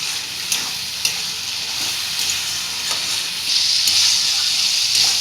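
Tomato, salt and spices sizzle and fry steadily in a pan for a chicken keema and pea ghugni, with a few sharp stirring scrapes and the hiss swelling louder toward the end; no talk.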